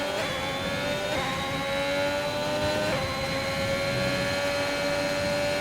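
Race car engines in a racing video game on a China circuit, a loud continuous high-pitched whine holding steady with slight shifts in pitch, several engines blending together.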